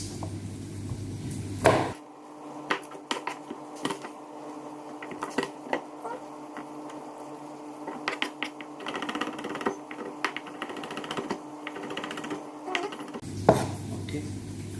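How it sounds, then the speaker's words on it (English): About three garlic cloves are chopped on a cutting board, a steady patter of quick, close knife taps, irregular in rhythm, with a louder clatter at the start and end. "Then we're gonna prep about 3 cloves of garlic."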